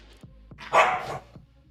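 A restless puppy yelps and barks in short, sharp bursts, with one louder cry in the middle, close by and alone.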